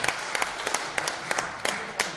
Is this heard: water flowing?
no